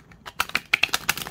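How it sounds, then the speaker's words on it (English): Tarot cards being shuffled by hand, a brief run of crisp, close riffling clicks in quick irregular succession with no talk. "I'm going to shuffle the cards. See how they shuffle."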